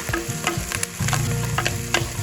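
Onion and coconut pieces frying with curry leaves in hot oil for a chicken roast, crackling and sizzling loudly and close while a spoon stirs them with repeated scrapes.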